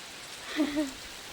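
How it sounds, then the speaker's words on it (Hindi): Rain falls in a village at evening as a soft, continuous hiss, with a brief faint tonal call rising out of it midway. "फिर से वर्षा प्रारंभ हो चुकी है"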